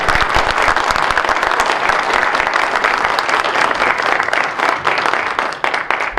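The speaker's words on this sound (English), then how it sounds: "And if we can all just give a round of applause." A crowd at an Iowa legislative forum gives a loud, sustained round of applause for Senator Bob Dvorsky, with dense clapping holding steady for about six seconds.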